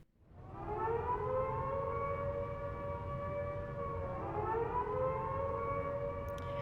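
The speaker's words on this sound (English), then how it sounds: "I don't think it's the fire alarm. This looks like a citywide alert." A citywide alert siren in Xenoblade Chronicles X wails in a long, steady, loud tone, briefly sliding down before rising again and holding.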